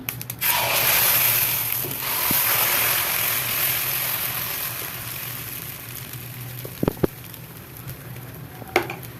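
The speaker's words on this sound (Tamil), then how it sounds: "இப்போ கல் காஞ்சிடுச்சிங்க இந்த தோசை ஊற்றிடலாம்" Horse gram dosa batter spreads on a hot griddle with a broad, steady sizzling hiss that slowly fades, broken by a few sharp clicks and scrapes.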